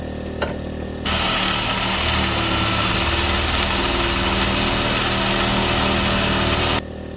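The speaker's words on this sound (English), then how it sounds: "that Sawzall, well, it just won't hardly touch that bolt" A Sawzall reciprocating saw cuts into a grade 8 bolt, starting abruptly after a brief pause and then running as a loud, steady, buzzing grind close by for several seconds before cutting off sharply.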